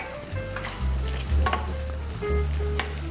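Tomatoes frying and sizzling in a pan as they are stirred, a steady close sizzle with low rumbling swells and scraping bursts from the stirring, no talking.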